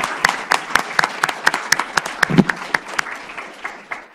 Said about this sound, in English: Can we start with an applause?